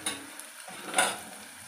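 Prawns frying in a pan give a faint, steady sizzle, with a brief scrape of stirring near the middle, close by and quiet.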